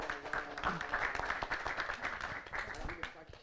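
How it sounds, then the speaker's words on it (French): Audience applause at a youth meeting, moderate clapping mixed with voices and chatter, uneven and somewhat distant, with speech running beneath it. "Vous avez envie d'applaudir? On applaudit."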